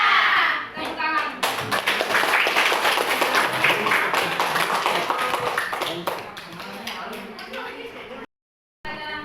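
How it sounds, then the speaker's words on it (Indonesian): Children in a classroom clap together at the end of a lesson, a dense, steady patter of many hands lasting several seconds before breaking off abruptly, then resuming briefly. "Tepuk tangan"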